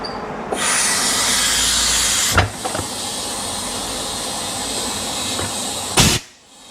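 Air hose inflating a van tire through a Schrader valve, a loud continuous hiss lasting several seconds, broken by brief clanks and a short pause before it cuts off.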